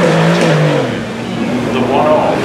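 A Rolls Royce Wraith Black Badge drives past at a motorsport festival hill run, its engine a loud, steady drone that swells and fades as it passes close by, with crowd noise underneath.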